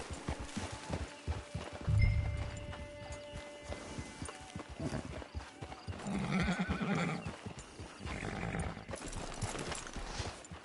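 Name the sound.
horse hooves in a video game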